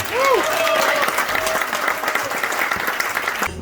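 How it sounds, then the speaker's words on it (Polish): An audience applauds loudly and steadily throughout, dense clapping filling the whole stretch, with a brief tone gliding in near the start. "Wielkie brawa!"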